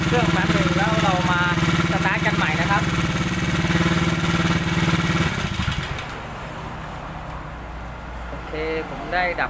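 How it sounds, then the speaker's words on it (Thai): A Jx110 motorcycle engine that has been idling for more than ten minutes and is running hot hums with a steady, even drone under a voice. The drone cuts off partway through, leaving quieter background sound. "เมื่อกี้นี้ติดเครื่องทิ้งไว้ก็ เกิน 10นาทีแล้วนะครับ"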